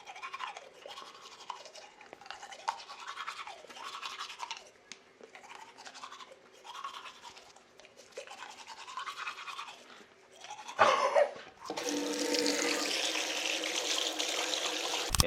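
A toothbrush scrubs teeth at a bathroom sink in quick, rhythmic back-and-forth strokes, close and steady for about ten seconds, then gives way to a loud, continuous rush of running tap water.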